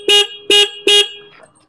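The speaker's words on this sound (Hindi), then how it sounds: "इसके अंदर जो हॉर्न आता है ना वो सिंगल हॉर्न है" A Bajaj Pulsar NS160 motorcycle's single horn sounds three short, loud honks in an even rhythm, close by, with a brief fade after the last.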